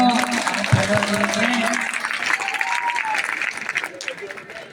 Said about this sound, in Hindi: ताली तो बजाओ भैया